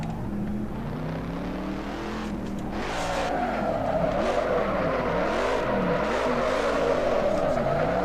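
Dodge Charger drifting in the racing game Assetto Corsa: an engine revs and climbs while the tires squeal in long wavering slides, loud and close with no voices.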